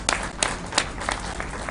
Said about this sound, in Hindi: एक बार सभी लोग ताली बजाकर स्वागत करें।